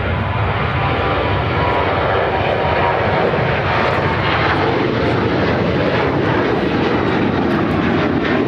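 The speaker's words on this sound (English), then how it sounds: "American Airlines 1485 taking off to Boston on the 737-800." American Airlines Boeing 737-800 taking off from Chicago O'Hare bound for Boston, a loud, continuous, close jet roar holding steady throughout with no speech over it.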